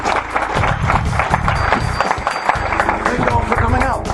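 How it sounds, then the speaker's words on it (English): Audience applause for panelists at the Tectonic 2015 Summit, a dense, steady wash of clapping from a crowd that holds at an even level for the full stretch with a murmur of voices underneath. "let's give a round of applause to our panelists"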